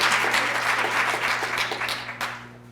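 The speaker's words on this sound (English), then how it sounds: "Give them a round of applause." A brief round of dense audience applause at a humanist community gathering, loud and steady before tapering off at the end.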